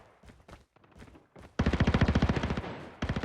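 Gunfire in a Call of Duty battle royale match: a few scattered shots at first, then a loud, rapid automatic burst, a short pause and another quick volley.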